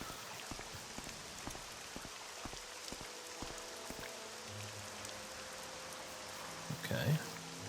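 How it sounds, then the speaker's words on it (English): Rain falls in the game Morrowind as a steady patter of drops with scattered sharper ticks, under a faint low hum, plus a brief louder burst near the end and no clear speech. "Alright, it's raining."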